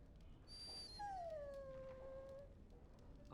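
A dog in the Dragon Age Origins video game lets out a thin, high, falling whimper that becomes a drawn-out whine, heard alone over a quiet background.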